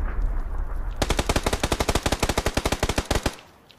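Automatic gunfire rattles out in a fast, loud burst of about two and a half seconds in the video game PUBG, a long rapid string of sharp shots that then stops.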